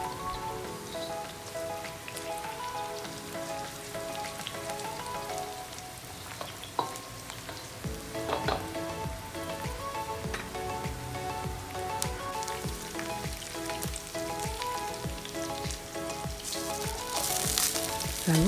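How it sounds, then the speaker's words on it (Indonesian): Pounded lemongrass frying with shallots in hot oil for dry mee siam, a dense, continuous crackling sizzle like rain, loud and close, with occasional sharper pops and no voices. "Lalu digoreng kembali bersama dengan bawang merah."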